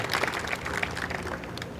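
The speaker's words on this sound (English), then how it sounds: "All of you guys deserve a round of applause for the amazing things you did out on the track." A crowd claps steadily for solar car race teams at a track event, a dense patter of scattered hands that holds evenly throughout the short burst.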